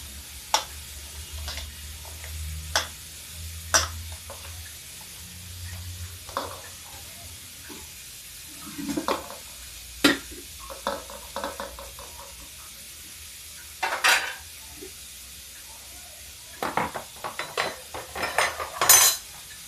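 Scattered clinks and scrapes of a spoon against a pan while dal is mixed with a pinch of salt, with irregular close taps over a faint low background hum.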